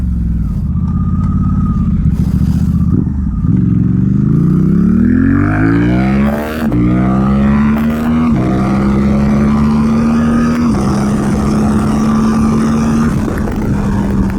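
Suzuki GSX-8R motorcycle fitted with a full exhaust and flashed ECU, accelerating hard at full throttle: a loud, close engine roar climbing in pitch through several gear changes, steady and continuous with no talk.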